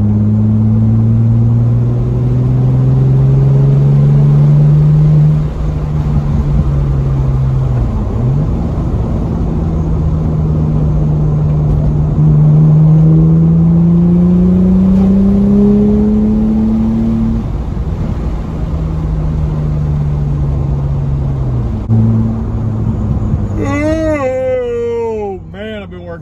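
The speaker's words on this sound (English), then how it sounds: "let y'all hear the exhaust while I'm driving" An Audi B6 with a 2.7-litre twin-turbo engine and straight-pipe exhaust drones loudly from inside the moving car, its pitch climbing and falling through gear changes for over twenty seconds, then a short squealing whine rises at the end.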